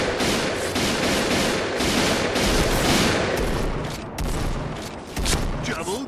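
Shots from a PGM Hecate II sniper rifle in a shooter game ring out as loud, dense gunfire amid a busy battle mix. Someone talks over the shooting.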